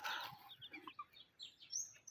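Native chickens make soft, faint clucks and high chirps. The calls come in short, scattered bursts against a quiet background.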